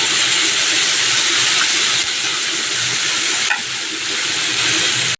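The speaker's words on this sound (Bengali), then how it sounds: "একটু রসুন কুচি কুচি করে দিয়েছি, নুন হলুদ দিয়েছি, একটু ভাজা ভাজা করবো" Chopped garlic with salt and turmeric sizzles steadily in hot oil in a pan, a loud, continuous close frying hiss with brief stirring scrapes and no talk.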